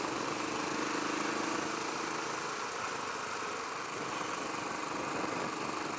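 A Royal Enfield Classic 500 single-cylinder motorcycle engine running steadily on a ride, a constant mid-level drone with wind noise and no talking.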